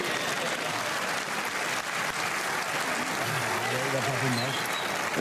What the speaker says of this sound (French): Les applaudissements du public parlent d'eux-mêmes.